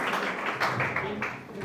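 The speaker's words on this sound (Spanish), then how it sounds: "un aplauso más para ellos" An audience claps for the cast of a church drama about the first missionary journey, producing a dense, steady wash of applause with a voice speaking over it.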